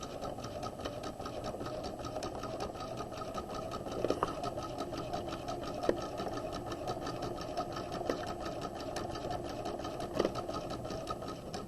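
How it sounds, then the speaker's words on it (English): Steady close whirr of a sewing machine stitching around the curved edge of a flat collar at a quarter-inch seam allowance, running continuously with a few faint clicks and no talk. "turn the collar as we're sewing to keep the edge of the collar at a 1/4 of an inch seam allowance"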